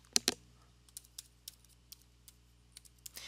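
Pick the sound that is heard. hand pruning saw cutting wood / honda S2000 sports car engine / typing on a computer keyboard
typing on a computer keyboard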